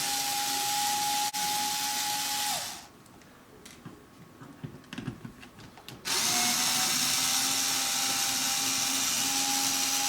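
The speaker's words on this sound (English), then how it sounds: "I'm just starting by undoing all the screws." Power drill whirring steadily as it backs out self-tapping screws from the nylon body of a gel blaster, the motor pausing midway for a few quiet clicks and handling noises before spinning up again.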